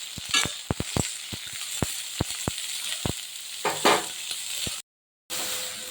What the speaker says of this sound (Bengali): আর দিয়ে দিচ্ছি একবারে কেটে রাখা বেগুন এবার আমি ক্রমাগত নাড়তে থাকি